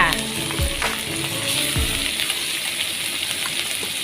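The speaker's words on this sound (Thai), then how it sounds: "ใส่ปลาลงไปนะคะปลาโคกของเราไปผัดจ้า ผัดรวมกันกับพริกแกงป่าจ้า" Fish is stir-fried with jungle curry paste in a hot pan, giving a loud, close, continuous sizzle with a few stirring knocks and scrapes early on.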